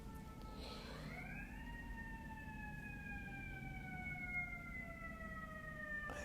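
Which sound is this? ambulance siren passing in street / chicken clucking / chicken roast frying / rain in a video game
ambulance siren passing in street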